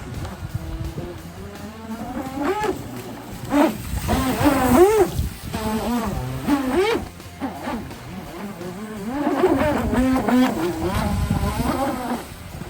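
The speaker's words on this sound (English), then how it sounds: "A lot of motor for a little boat." A small high-pitched radio-controlled jet boat motor whines and revs repeatedly, rising and falling in bursts as the boat skims across choppy water.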